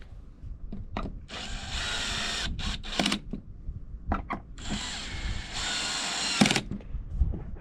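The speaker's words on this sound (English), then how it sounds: "Let's go ahead and tighten the Phillips." A cordless power drill on its lowest setting drives a Phillips screw during radiator work on a 2003 Chrysler Town and Country, heard in close, whirring bursts with stops and clicks in between, no voices.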